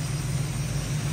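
An Oldsmobile engine idles steadily with a low, even rumble and hum, close and constant throughout, with a slight exhaust leak.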